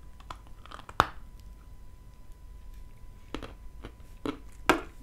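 Dry Kyrgyz edible clay (gulboto) being bitten and chewed close up, a sharp crunch followed by a few scattered softer crunches and crumbly bites, with quiet pauses between.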